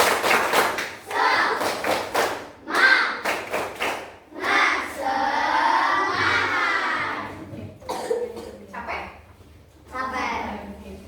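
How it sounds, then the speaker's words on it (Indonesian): An elementary school class performs a rhythmic spirit clap: quick patterned bursts of clapping alternating with children chanting and shouting together, loud and close, in repeated cycles. "Tepuk semangat"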